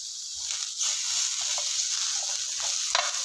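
Tomato and coriander masala frying in a pan with coconut oil, a continuous sizzle with repeated soft scrapes and knocks from stirring, close and fairly quiet, nobody talking.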